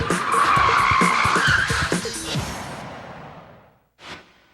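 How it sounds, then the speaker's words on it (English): A car skids through a forward handbrake J-turn on a driving course, tires squealing loudly for a couple of seconds before the noise fades, then a short final screech. "the fastest way to turn around is a maneuver called a forward handbrake J-turn"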